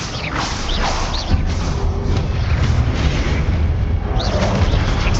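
A Confringo spell explosion in Hogwarts Legacy rumbles loudly as a dense, booming blast, followed by continuous heavy rumbling and crackling debris.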